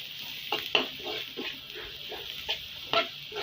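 Spiny gourd frying with turmeric and coriander powder in a pan, a soft low sizzle with a handful of light spatula scrapes and taps, fairly faint.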